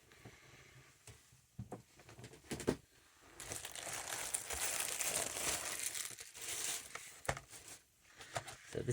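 Crinkling and rustling of a Royal Australian Mint 50 cent coin collection folder being handled up close, with soft crackles and scattered taps, and a few quiet words spoken.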